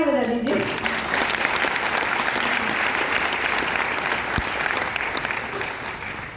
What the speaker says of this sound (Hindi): वेरी गुड, एक बार तालियां बजा दीजिए।